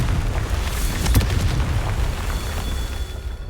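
Confringo fire spell explosion in the video game Hogwarts Legacy: a dense, continuous rumbling boom with a sharp burst near the middle, loud and sustained with no talking.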